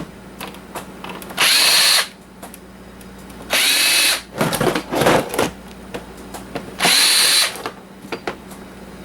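Power drill driving out screws from the plastic bottom panel of an appliance being scrapped, heard as three loud whirring bursts of about half a second each, with softer rattling and handling noise between them.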